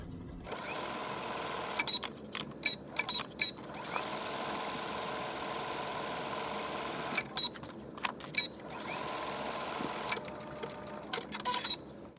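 Sewing machine back stitching on a skirt pattern, a steady mechanical whir broken by short pauses and bursts of stitching, close and fairly quiet.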